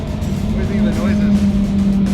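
Twin-turbo 1000 hp Lamborghini Huracan engine giving a loud, steady, deep droning roar close by, with voices faintly over it.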